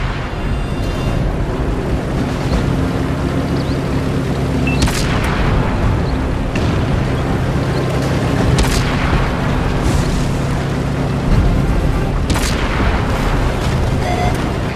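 Tank cannon fire from World of Tanks, with several loud booming shots punctuating a dense, steady rumble of engine and battle noise, roughly every three to four seconds.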